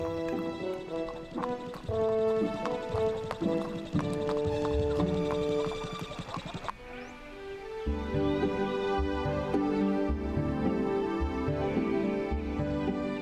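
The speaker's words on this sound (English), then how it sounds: "It was great to listen to the sound of horseshoes on the concrete." A horse in new horseshoes clip-clops across concrete, a steady rhythm of hoof knocks heard close but partly buried under loud, continuous music.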